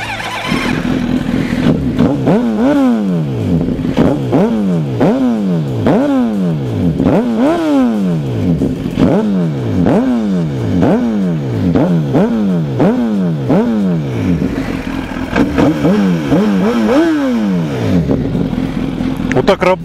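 A freshly assembled motorcycle engine revs close by in repeated rising and falling bursts, a deep bassy roar cycling roughly every second over a steady idle.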